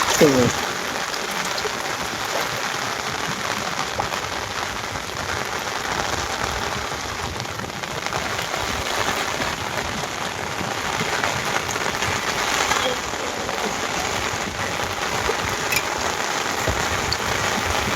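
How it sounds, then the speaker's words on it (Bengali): Heavy monsoon rain pours over a wetland where villagers fish with nets, a dense, even hiss of drops drumming on water and surfaces throughout, close and loud, with faint voices now and then. "বৃষ্টি প্রচুর বৃষ্টি"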